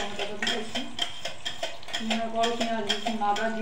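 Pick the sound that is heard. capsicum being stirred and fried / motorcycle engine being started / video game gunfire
capsicum being stirred and fried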